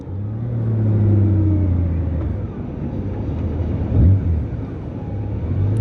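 Steady road traffic and engine rumble while riding a Honda Gold Wing GL1800 motorcycle on a busy road near Pensacola, with a constant low drone and a brief louder swell as a vehicle passes close by.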